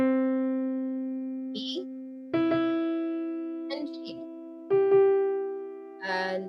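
Keyboard notes, middle C then E, ring out as sustained tones that are struck again and decay slowly, with brief bits of speech between the notes.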